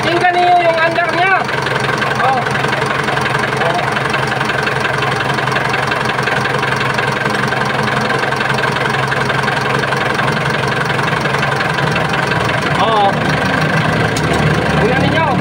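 A diesel engine idles steadily and close, a continuous knocking mechanical chug that runs the whole time while someone talks over it.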